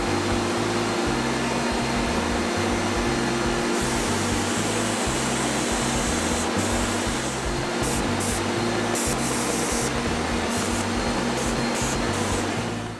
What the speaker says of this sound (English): Okay, I've just been setting up the spray gun.